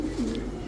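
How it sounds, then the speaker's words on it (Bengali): A female Oman Teddy pigeon gives a single short, soft coo, close by and brief. "এই অরিজিনাল ওমান টেডি একটা মাদি কবুতর"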